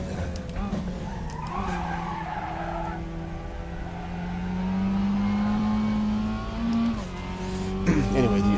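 Mazda MX-5 Cup race car in the RaceRoom sim at Daytona, engine revving and shifting with rising and falling pitch alongside tire squeal, with someone talking over it.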